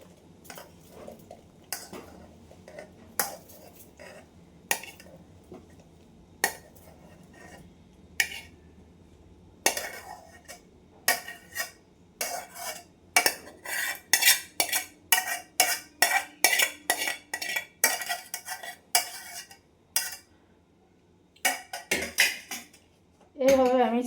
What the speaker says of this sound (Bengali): এইভাবে আমি ছানাটা ছেঁকে নিচ্ছি।